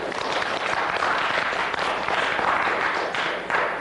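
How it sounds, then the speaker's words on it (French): Scattered applause from a TV game show studio audience, a steady wash of many hands clapping unevenly for several seconds, moderately loud and continuous with no voices. "les applaudissements sont très éparpillés"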